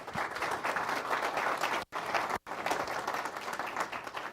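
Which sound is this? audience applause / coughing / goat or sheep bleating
audience applause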